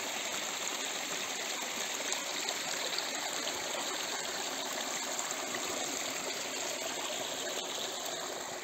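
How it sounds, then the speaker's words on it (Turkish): A mountain spring stream flows steadily down from above on Murat Mountain, a continuous broadband rush of water that stays even and close throughout, with no voices over it. "Yukarıdan geliyor bu pınar."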